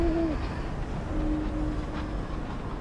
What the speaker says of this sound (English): Your owl is back, and it's found something.